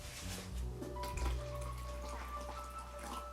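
Lukewarm water, kettle-boiled water mixed with cold, poured into a plastic measuring jug for pizza dough, a steady continuous splash and trickle close by, without any talk.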